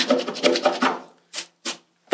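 Duster brush swept along a raked-out crack in a bedroom ceiling during flat renovation: a rapid rasping, rubbing burst of strokes close up, then three short separate brushing swipes after a pause.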